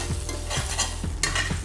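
Egg added to hot oil for fried rice, sizzling and frying steadily while a utensil scrapes and stirs the pan in rhythmic strokes, close and continuous.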